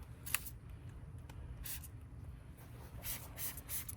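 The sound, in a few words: spray bottle misting wheels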